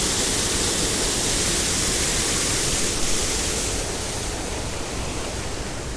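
A small waterfall roars in a steady, dense broadband rush, loud and close, holding an even level throughout with no voices.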